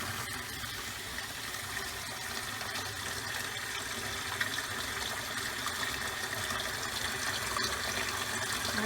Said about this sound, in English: Should I open the other one? And open your cold water as well.